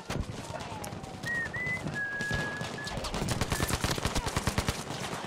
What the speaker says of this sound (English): they're shooting from every which way now